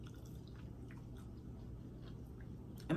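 Chewing and wet lip smacking during a mini mukbang eating session, with soft, close, steady mouth sounds at low level and a slightly louder smack near the end; nobody talks.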